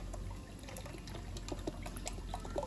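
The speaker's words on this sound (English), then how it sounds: "I'm going to make sure that I have 6 cups of chicken stock mixed in with water." Chicken stock mixed with water is poured for Mexican red rice, a soft continuous liquid trickle with small splashy bubbling, faint and close.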